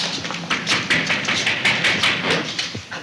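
Someone knocks hard on a door in an Egyptian short film as police arrive with a search warrant; a rapid series of loud, close raps and thuds runs continuously for about three seconds, with no talking.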